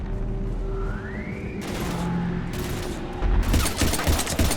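Bursts of rapid gunfire erupt in Mass Effect 3 combat, starting with short volleys and building into a dense, loud fusillade near the end over a low droning background.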